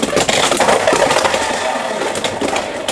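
Beyblade spinning tops, a knight and a dragon, clash inside an arena with no motor, giving a loud, continuous rattling grind of hard plastic scraping and knocking for several seconds, with no talking.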